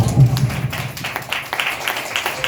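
Church congregation at a Sunday service clapping, a dense run of hand claps spread through the room at moderate loudness.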